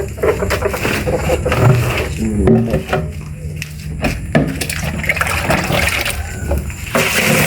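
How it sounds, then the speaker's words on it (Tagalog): Water being poured into a cooking pot while preparing paksiw of field frogs, a loud, continuous splashing and gushing flow in a busy outdoor setting, with people talking faintly underneath. "Lagyan mo tubig, Lep."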